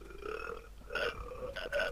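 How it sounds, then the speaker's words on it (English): Several people burp in quick succession, a short cluster of low, guttural belches with a brief gap between bursts, heard fairly clearly at moderate volume with no talking. "there's people burping"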